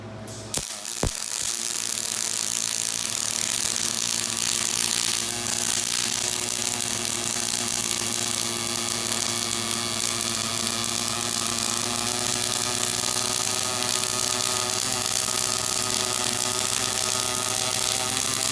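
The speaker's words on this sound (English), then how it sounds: "Start our program again. And it's now going to weld." A robotic arc welder lays a weld in one long, steady, close buzz that runs for many seconds, broken only by a few sharp clicks as it starts.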